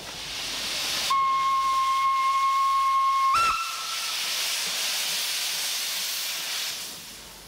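Steam hiss from a steam locomotive with a tubular boiler: a sustained broadband rush that swells into a steady whistle-like tone for a couple of seconds, then breaks off abruptly and settles back into continuous hissing.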